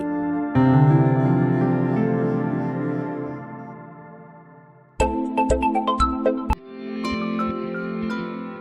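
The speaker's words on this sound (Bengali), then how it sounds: "অসীমকে ফোন করে দেখি কিছু হয়েছে কি" A mobile phone plays a ringback melody during an outgoing call: a sustained electronic tune, then a brief break and a run of short bright chiming tones before the melody resumes, close and clear with no talk.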